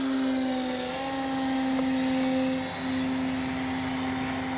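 An Avios Extra NG radio-controlled aerobatic sport plane with an electric motor hums overhead in the evening with a steady, high, droning whine that dips briefly near the end, no voices.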